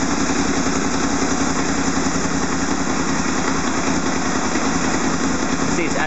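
A 6th-generation Honda VFR800 motorcycle engine idles a little high during starter-valve synchronising, a steady, dense, even hum close by and unbroken throughout.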